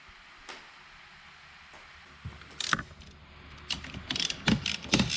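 Ratchet wrench clicking as it tightens a 5/8 inch bolt on a seat bracket in a 2005 Chevy Corvette, starting with sparse clicks and building into louder, quicker bursts of ratcheting near the end.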